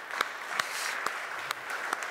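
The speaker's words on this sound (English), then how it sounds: "running DebConf for 5 years, which, yes, definitely worth an applause" Audience applause at a DebConf conference talk, a steady wash of clapping through the hall with a few sharper claps standing out, moderately loud and without voices over it.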